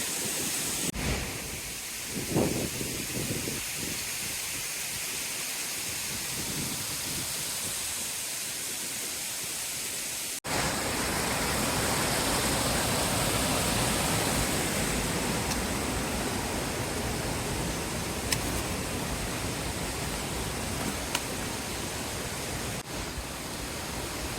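Mountain stream on a forest trail near Ghangad and Sudhagad, a steady broadband rush of flowing water that swells louder after the first ten seconds and continues without pause, with faint footsteps and rustling early on.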